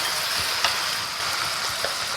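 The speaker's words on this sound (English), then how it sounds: "I'm going to slowly add in the chicken. And that's what I want, that sizzle." Chicken pieces being added to a hot pan with fried onions, giving a steady, close crackling sizzle with small pops and no talking.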